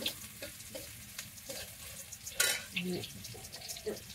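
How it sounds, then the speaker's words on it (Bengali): Onions sizzle softly in a pan while a utensil stirs and scrapes, with intermittent clinks and some faint background sounds. "পেঁয়াজটি ভাজা হয়ে গেছে"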